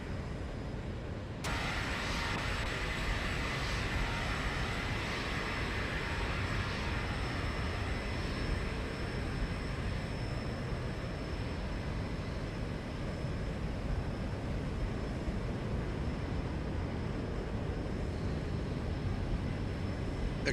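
Aircraft engines in a flight simulator game, a Zibo-modded airliner on a Dresden to Southend flight, giving a continuous broad roar with a steady whine that holds loud and even throughout, with no talking.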